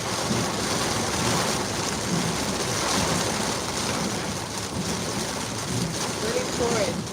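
Heavy rain pours down in a thick, constant roar that sounds close, with wind-like rushing mixed in and a faint voice near the end.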